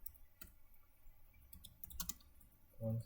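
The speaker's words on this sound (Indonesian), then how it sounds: "Di sini kita ketikkan enable" Light keystrokes typing a short command on a computer keyboard, a few quiet scattered clicks against a faint background hum, with no talking.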